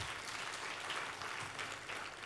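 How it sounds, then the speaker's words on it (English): Big audience applause at an annual members' meeting, a dense, steady wash of many hands clapping throughout, loud and sustained with no talking over it. "That deserves a big hand clap."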